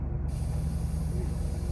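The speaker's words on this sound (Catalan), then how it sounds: "Som a desinflar, anem a desinflar." Air hisses out in a loud, steady rush from a rally car's tyre being deflated during an African rally raid, continuous and close for the whole moment with no break.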